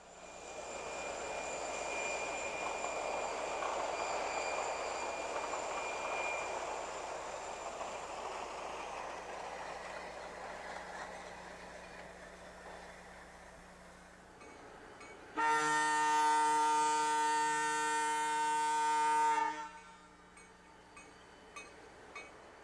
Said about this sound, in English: a westbound train consisting of the three locomotives we saw earlier and a snowplow crosses the Thames River and bears down on a crossing